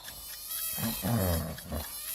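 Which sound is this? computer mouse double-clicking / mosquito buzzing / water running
mosquito buzzing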